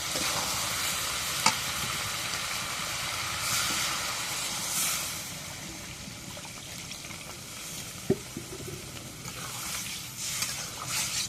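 Potatoes and soya chunks fry steadily in a pan, with a continuous close sizzle and hiss as water goes in, plus a few sharp clinks from a utensil.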